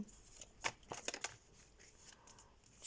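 Cards are shuffled close by in a few quick, soft riffles and flicks, with quiet gaps between them in an otherwise still room.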